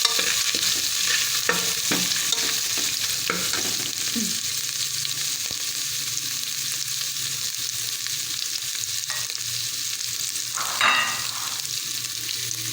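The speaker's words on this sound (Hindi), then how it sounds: "ये हरी मिर्च थोड़ी सी बीच में फ्राई कर लेंगे" Green chillies fry in a pan with garlic and ginger for moong dal khichdi, giving a steady close sizzle throughout, with occasional scrapes and clinks of a spoon stirring.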